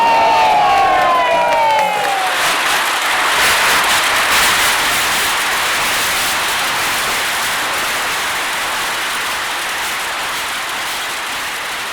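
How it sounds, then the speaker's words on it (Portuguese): Large outdoor crowd at a street carnival bloco cheering and applauding in a dense, sustained roar that slowly fades, with a brief whistle-like tone at the start. "Palmas para o bloco da latinha."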